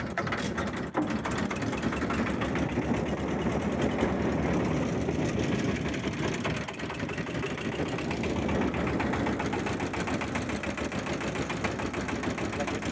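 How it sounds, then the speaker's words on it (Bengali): A boat engine drones steadily and loudly as the boat pushes against the current on the swollen Teesta river in monsoon season, a continuous close mechanical rumble with no pauses. "স্রোতের বিপরীত দিকে নৌকা চলছে"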